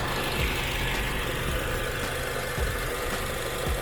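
A Honda K24 car engine idles steadily up close, a constant mechanical hum with faint rhythmic ticking and knocks, uninterrupted and alone.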